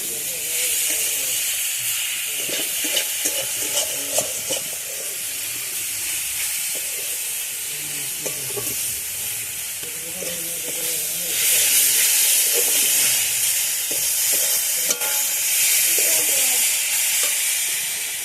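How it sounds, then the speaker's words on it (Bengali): Grated coconut fries in a pan with a steady, loud sizzle and hiss that carries on throughout, swelling slightly louder partway through, with faint scraping from stirring. "নারকেলটা ভেজে নিয়ে নিই আমি।"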